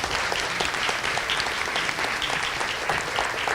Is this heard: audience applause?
yes